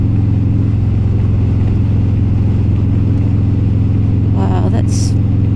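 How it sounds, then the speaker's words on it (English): A car engine running steadily in third gear on a drive from Taihape to Napier, a loud constant low hum and rumble heard from inside the car throughout, with faint voices near the end. "Just taking it nice and steady in third gear"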